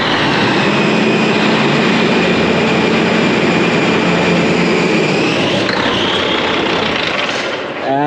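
A car engine revs loudly and steadily under throttle while a loose belt shared by the alternator and AC slips, producing a sustained whining squeal that shifts in pitch near the end.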